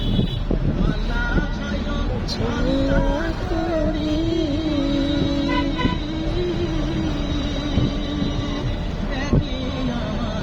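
A speedboat racing across a river in Bangladesh, its engine a steady droning whine that rises in pitch, with wind buffeting the microphone and water noise around it.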